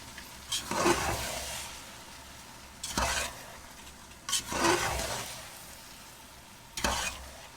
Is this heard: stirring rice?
yes